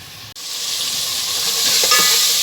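Masala frying in oil for aloo keema gives a loud, dense hiss that rises and holds steady after a brief break, with faint stirring scrapes underneath and no voices.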